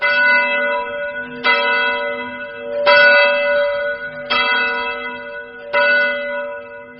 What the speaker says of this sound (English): Others claim they would hear the work bell toll at midnight.